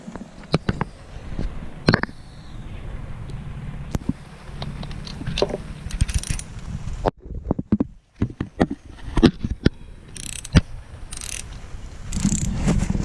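Spark plug coil heads being pushed back onto a Yamaha F115 outboard engine, with sharp isolated clicks and small plastic snaps scattered over a quiet background of faint handling noise.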